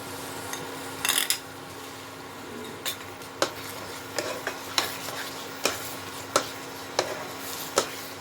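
Cashews and raisins being stirred into carrot halwa in a pan, with a low steady sizzle under it and repeated close spoon scrapes and taps on the metal at a loose, regular rhythm.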